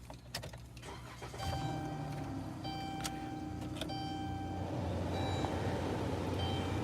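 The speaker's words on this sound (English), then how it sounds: "I'm gonna have to crank up my car." A car engine starts after a brief crank and settles into a steady, fairly loud idle that runs on to the end, with some faint beeping tones from the car mixed in.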